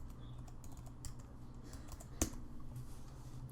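Quiet clicks of a computer keyboard while a layer name is typed into 3D modeling software, light scattered keystrokes with one sharper click in the middle, no talking.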